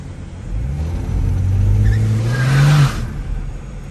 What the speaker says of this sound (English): I'm gonna just warm up my tires a little bit.